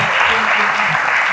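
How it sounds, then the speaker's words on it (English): Audience at an official opening session applauds a speaker, dense loud clapping filling the whole moment with faint voices mixed in. "A better round of applause for His Excellency Musalia Mudavadi"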